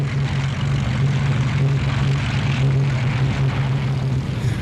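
A Japanese Zero fighter plane's propeller engine drones steadily and loudly throughout, a continuous low throbbing hum with no voices over it.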